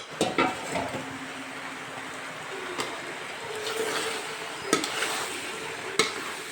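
Cooked pasta and vegetables stir and sauté together in a pan, giving a steady low sizzle broken by several sharp clacks of a utensil against the pan, close by and without any talk.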